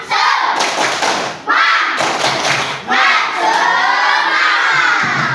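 Children in a classroom perform a 'tepuk semangat' clapping chant, loud chanted voices broken by sharp group claps and short pauses in a quick rhythm.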